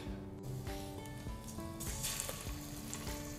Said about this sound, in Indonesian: Gue bakalan pan fry dulu ikannya